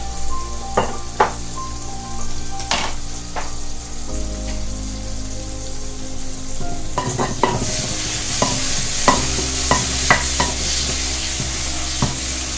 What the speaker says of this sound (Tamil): இது நல்லா வதங்கட்டுக்கும்